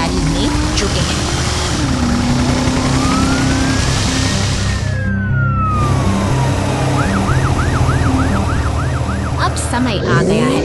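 A police car siren in an animated night scene, wailing in long rising and falling sweeps and then switching to a rapid yelp, heard over a dense, busy background with a tow truck and a patrolling helicopter nearby.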